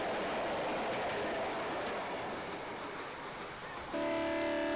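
A train rolls through the northern Maine wilderness with a steady, loud rumble of wheels and cars, then a sustained horn blast sounds near the end.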